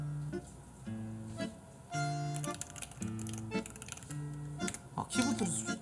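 Clicky keystrokes on a newly bought computer keyboard come in short bursts and scattered taps, close and fairly loud, with a steady tonal hum running underneath.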